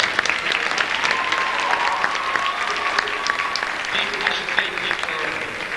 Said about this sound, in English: He earned that round of applause.